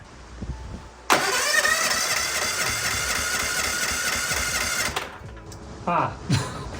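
A racing lawn mower's small engine cranks and catches, running with a rough, buzzing idle for several seconds before cutting off, followed by a couple of faint clunks.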